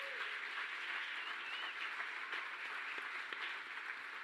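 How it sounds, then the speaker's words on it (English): A crowd at a speaker series event claps in sustained applause, a steady wash of many hands at moderate distance with a few sharper individual claps standing out. "let's give a big round of applause"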